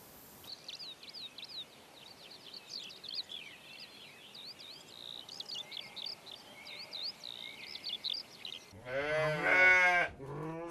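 Native sheep bleating in the wetlands of the Bohemian Forest, a flock of repeated wavering calls at moderate distance over a faint outdoor background, followed at the end by someone speaking.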